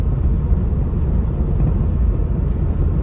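A K24-swapped Acura RSX driven at night, its engine a steady low rumble and whir from inside the cabin with no clear shift break, loud and continuous throughout.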